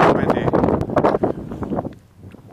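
Wind blowing outdoors in bitter winter cold on a walk, gusting roughly against the microphone with uneven buffeting and rustle, easing near the end.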